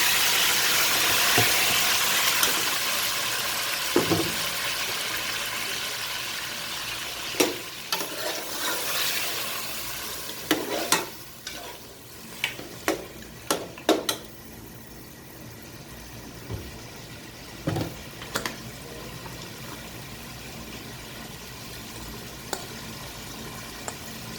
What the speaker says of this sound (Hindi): प्याज मेरी ब्राउन हो चुकी है, तो अब मैं इसमें डालूँगी गोश्त।